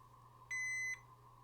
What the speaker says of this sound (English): We're in beep beep mode.